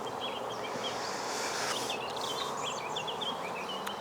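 Honey bees buzzing during an inspection of a National 14x12 hive, with smoke used to calm them; a continuous soft drone of many bees close by, with faint bird chirps over it and no talk.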